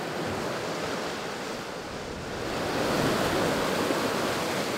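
Ocean swells churn around a boat off Newfoundland's rugged east coast, making a steady, broad wash of surf that swells slightly louder partway through, with no voices.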